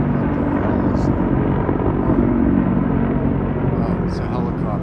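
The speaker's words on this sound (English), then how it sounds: "Oh, it's a helicopter. Pretty noisy." A helicopter roars loudly and steadily overhead, a dense low rotor rumble filling the whole stretch, with a voice faintly under it.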